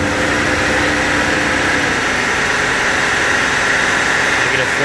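A 1996 Buick Century's 3.1L V6, suffering secondary ignition and injector problems, is held at raised RPM, giving a loud, steady, dense engine drone close by with no clear peaks.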